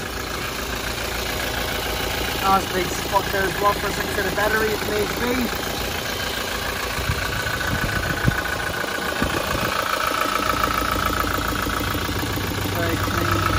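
A 2017 Toyota Hilux SR 4x4 tipper idles with its engine bay open, a steady low mechanical hum running the whole time beneath someone talking nearby.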